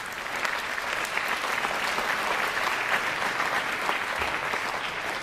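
Warm, sustained applause from an audience welcoming a guest at a Paris district ceremony, a dense continuous wash of clapping hands at even loudness throughout.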